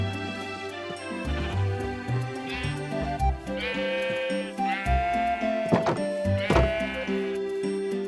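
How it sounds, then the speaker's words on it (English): Several sheep bleat in a farm video game, the calls loud and close and overlapping over a steady layer of game music, with a few dull thunks along the way. "I'm gonna drag one more sheep inside there, so we have 4 sheep."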